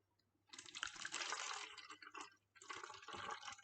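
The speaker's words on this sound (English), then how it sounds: "now we are going to take hot water and pour it inside" Hot water poured through a funnel into a bottle, a close splashing, gurgling fill that runs for about two seconds, pauses briefly, then resumes.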